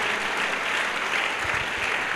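Continuous crowd applause at an evangelistic crusade and deliverance gathering in Douala, a dense steady clapping wash at moderate distance throughout, with no clear talk over it.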